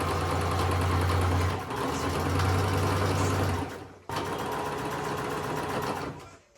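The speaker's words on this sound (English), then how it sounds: "sides together like this, and then do a straight seam down" Close and loud, a sewing machine runs a straight seam in continuous bursts with a steady mechanical whir, pausing briefly twice before starting again.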